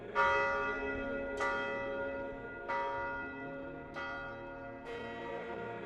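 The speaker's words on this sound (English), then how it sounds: "interrupted only by the sound of the bell" The church bell at Vodica Monastery tolls in quiet surroundings: five distinct strikes at a slow, even pace, each ringing out and fading before the next, with no other sound.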